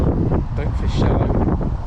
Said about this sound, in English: 45-mile-an-hour gust.